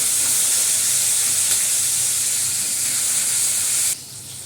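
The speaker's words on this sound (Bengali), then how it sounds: "একটু জিরে ফোড়ন দিচ্ছি, একটু কাঁচা লঙ্কা দিয়ে দিলাম, একটু টমেটো দিয়ে দিলাম" Cumin seeds, green chili and tomato hit hot oil for a spinach dish, giving a loud, continuous hiss and sizzle that holds steady for about four seconds before dropping suddenly to a softer simmer.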